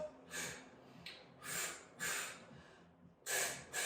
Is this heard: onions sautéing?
no